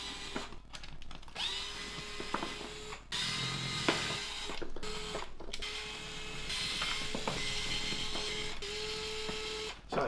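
Screws being loosened on motorcycle luggage mounts for soft bags on a BMW R1250GSA, with a hand tool giving repeated close ratcheting clicks and small metallic rattles, steady throughout.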